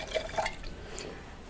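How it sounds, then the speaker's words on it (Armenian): Water is poured at a table during a meal, a few soft splashes and drips early on followed by a light trickling fill that fades quietly. "Քեզ ջուր ավելացնեմ։"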